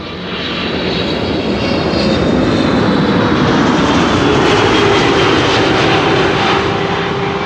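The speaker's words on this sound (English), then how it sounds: "After this, a 737 arriving from Porto." Boeing 737 arriving from Porto at Amsterdam Schiphol, its jet engines a loud, steady roar that swells slightly as it passes close by, with no voices over it.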